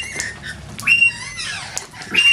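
Lorikeets squawking in the background on a wet winter's day, several harsh screeches and chattering calls overlapping in quick irregular bursts, moderately close.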